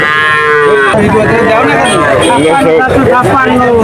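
Cattle and calves at the Chuknagar cattle market give loud, close, drawn-out moos, one after another, while a crowd chatters and people talk nearby.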